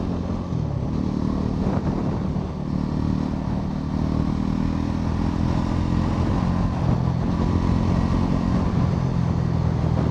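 Bajaj Pulsar NS 400Z 2025 motorcycle cruising at about 80 km/h, a steady loud engine drone with wind rush and faint clatter, continuous and close throughout, no talking.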